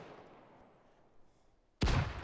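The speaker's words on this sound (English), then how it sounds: "One I'm shooting now." A single rifle shot in the ArmA 3 military game cracks loud and sharp after a quiet stretch of low ambient noise, followed by a short rumbling tail.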